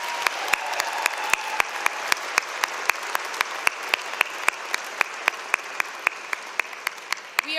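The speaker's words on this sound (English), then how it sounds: "So let's give our family and friends of our graduates a round of applause." Audience applause at a law school commencement, a dense continuous patter of many hands clapping, with a strong rhythmic clap repeating steadily through the whole stretch.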